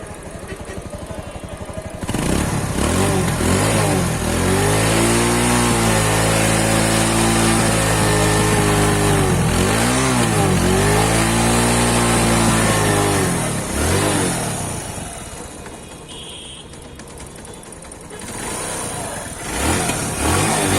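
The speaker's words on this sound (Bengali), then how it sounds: "বাইকটি স্টার্ট করে সাউন্ড একটু শুনি" A TVS Metro 100cc motorcycle engine starts and idles loudly up close, its steady putter rising and falling with a couple of revs before settling.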